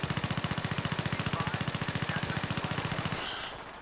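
Rapid automatic gunfire in the video game Battlefield 3, a steady stream of evenly spaced shots lasting about three seconds, loud and close, then cutting off into a brief tail.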